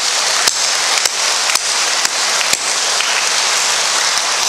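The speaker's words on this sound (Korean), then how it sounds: "이 하나님 앞에 우리 두 손 들고 영광의 박수를 돌려드리십시다" Church congregation applauding together during a Korean worship service, a dense, loud, sustained wash of clapping with a few sharper accented claps standing out at regular intervals.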